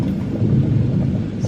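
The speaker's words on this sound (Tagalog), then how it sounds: "I don't know if you can hear it, but that's a wind." Wind blows outdoors in the UK, heard as a continuous low rumbling buffet, loud and close against the microphone, steady for the whole moment with no other clear sounds.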